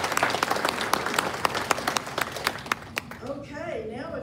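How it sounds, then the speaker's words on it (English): A room of residents breaks into applause at a quarterly association meeting, dense clapping that thins out near the end as a voice starts speaking over the last scattered claps. "Let's give them a round of applause."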